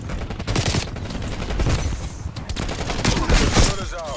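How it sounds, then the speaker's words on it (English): Enemy sentry turrets in Call of Duty Cold War unleash sustained automatic gunfire, a dense fusillade of rapid shots rolling continuously at close range with overlapping bursts and a few sharper cracks near the end. "Multiple enemy sentry turrets active."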